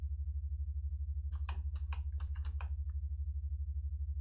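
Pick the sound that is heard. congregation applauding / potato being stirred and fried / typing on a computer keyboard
typing on a computer keyboard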